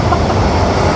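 Steady rumble of a packed standing-room passenger train rolling through Germany, a dense, continuous low roar with faint clatter throughout, close and even with no voices standing out.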